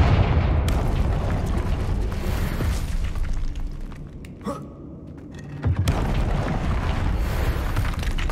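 Confringo fire spell blasts in the Hogwarts Legacy video game, a loud booming burst with a dense, roaring low rumble that fills the scene, easing briefly near the middle before another strong blast hits.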